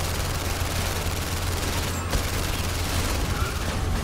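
Dense, continuous gunfire from The London Heist VR game, a steady unbroken fusillade of rapid shots filling the whole stretch at a loud, close level, with no talking over it.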